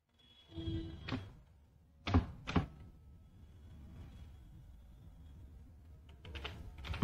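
Someone types column headings into an Excel payroll sheet, with a few short, separated bursts of computer keyboard clicks and some quiet pauses between them.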